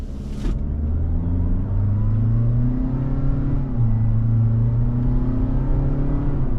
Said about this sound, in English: Now we got a noisy 4-cylinder naturally aspirated because this thing isn't fast.